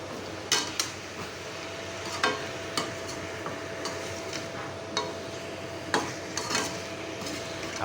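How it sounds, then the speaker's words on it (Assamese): Chicken being stirred in a pan with a spoon while cooking, soft sizzling underneath and scattered sharp clicks and scrapes of the utensil against the pan at an uneven pace, fairly quiet and close. "এতিয়া ধুনীয়াকৈ হিলাই দিব"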